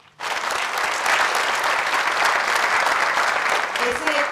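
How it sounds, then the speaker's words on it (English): A round of applause at a college commencement ceremony honours parents and family members, starting abruptly after a brief quiet moment and holding steady, dense and loud for several seconds. "please let's give them a round of applause"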